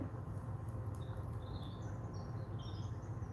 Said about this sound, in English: I feel like I'm hearing birds.